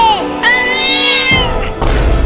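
A cat meows loudly in a short series of drawn-out, wavering calls, close by, with thumps and clatter breaking in between the meows.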